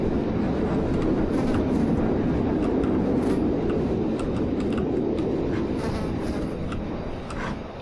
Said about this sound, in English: our air conditioning sound played right here